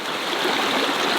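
Water from a homestead stream rushes and splashes in a steady, dense broadband wash, close and continuous with no voices.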